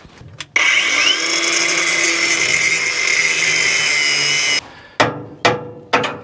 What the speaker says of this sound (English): So what I'm gonna have to do is, you know, cut it out. All else fails, a wire wheel takes care of it. Not a wire wheel, a cutoff wheel.